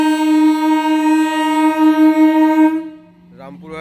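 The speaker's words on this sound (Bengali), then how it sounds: "কাশিমবাজার আজিমগঞ্জ মেমু প্যাসেঞ্জার কাশিমবাজার রেল স্টেশনের 3 নম্বর প্ল্যাটফর্ম থেকে ছেড়ে যাচ্ছে।" A Cossimbazar–Azimganj MEMU passenger train pulls away from platform 3 at Cossimbazar station in West Bengal, sounding a long, loud, steady horn for nearly three seconds before it cuts off into quieter rumbling and clatter.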